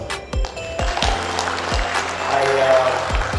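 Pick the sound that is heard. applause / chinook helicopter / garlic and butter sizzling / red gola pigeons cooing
applause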